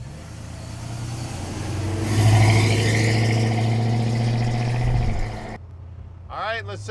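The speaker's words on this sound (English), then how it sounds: "Let's take this 49 for a ride." A 1949 Chevrolet five-window pickup truck rolls along with a steady, loud low engine drone that swells and holds, then drops away near the end, with a person talking over it.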